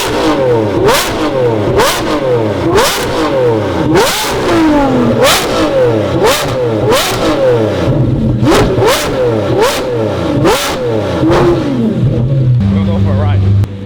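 A Lamborghini Revuelto fitted with a Gintani F1 exhaust revs hard again and again, each sharp loud blip rising and falling in quick rhythmic bursts close to the microphone before settling to a lower idle-like drone at the end.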